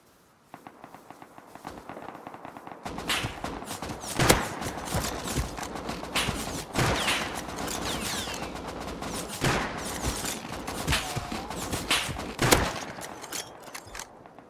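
Gunfire cracks out during a tribal clash in Rust, a dense fusillade of sharp shots and quick bursts from several guns, some close and loud and others farther off, continuing steadily throughout.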